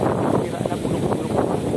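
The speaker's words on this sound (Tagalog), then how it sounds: "ang lakas-lakas guys ng hangin dito" Strong wind blows through leaves in a rural spot, a loud, steady rushing roar buffeting the microphone while a person talks over it.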